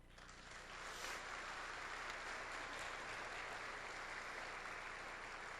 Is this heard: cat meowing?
no